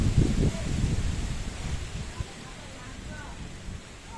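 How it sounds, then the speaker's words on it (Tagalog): Strong wind buffets the microphone with low rumbling gusts, heaviest at first and then settling into a steadier whoosh. "Ang lakas ng hangin dito."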